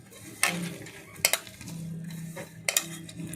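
Gima greens being mixed with salt by hand in a kitchen bowl, a few short rustling and clinking bursts spaced apart over a low steady background hum.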